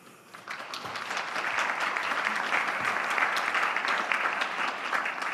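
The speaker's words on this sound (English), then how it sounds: "I was hoping you'd clap" University audience applauding at a Three Minute Thesis competition, the clapping swelling in over the first second and holding steady and full.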